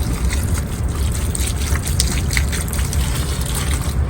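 Water poured steadily onto a potted aloe vera plant, a continuous close splashing gush that holds at an even level throughout with no voices.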